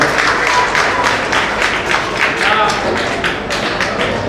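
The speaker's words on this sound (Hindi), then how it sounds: "जोरदार तालियां दीजिए" A crowd at a community prize-distribution gathering in Surat applauds a guest coming up to speak, with dense, loud clapping that keeps up for several seconds amid a murmur of voices.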